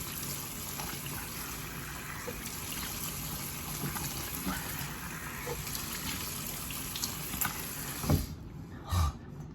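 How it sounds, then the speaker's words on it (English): Running water gushes and trickles steadily as a face is washed, ending with a couple of brief splashes and handling sounds, close and fairly quiet. "Bring the water up, face down, and just kind of spread the water on your face."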